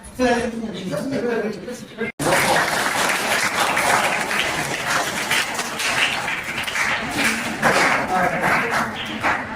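Students at an exhibition burst into loud, sustained applause after a brief pause, dense clapping filling the room with scattered voices underneath.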